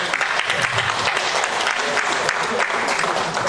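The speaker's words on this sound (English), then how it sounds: "Please let's applaud her some more." Conference audience applauding steadily after a spoken piece, dense sustained clapping filling the room at close range, with a voice faintly under it.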